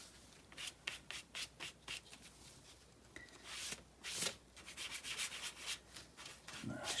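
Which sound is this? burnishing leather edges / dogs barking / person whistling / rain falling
burnishing leather edges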